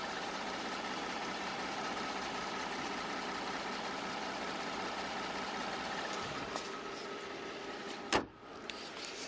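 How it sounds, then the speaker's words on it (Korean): A luxury flagship sedan engine idling, a very quiet, steady low hum and faint hiss holding evenly, with a few small clicks and one short sharp knock near the end. "정말 숨소리보다 더 조용한 이 엔진 소리 이제 바로 한번 들려드릴게요"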